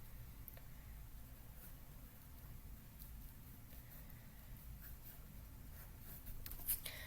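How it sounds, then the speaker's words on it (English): Soft pencil strokes sketching the outline of hair on paper for a portrait, a faint, quiet scratching that runs on and off throughout a near-silent room. "When I'm drawing the outline of the hair, I don't have to just stick to this part."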